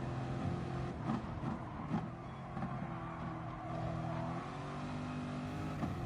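Race car engines drone and whine in a racing video game while a GTR peels into the pits, with shifting revs and overlapping cars, moderately loud and continuous.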